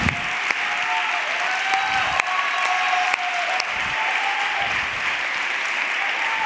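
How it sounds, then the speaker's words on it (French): Steady audience applause at a talk event honoring a voguing group, dense clapping throughout with a few sharper claps standing out and a faint whistle-like tone drifting over it. "Vous pouvez les applaudir."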